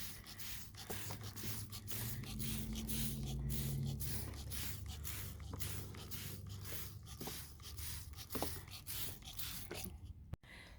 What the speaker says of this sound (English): we'll just bathe them really well in the copper spray